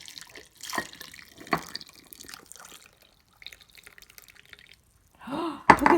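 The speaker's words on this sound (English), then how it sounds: "now we put some piping hot milk in the cup with the chocolate bomb" Piping hot milk poured into a cup over a chocolate bomb, a brief close liquid pour arriving near the end after a quieter stretch of faint kitchen noises.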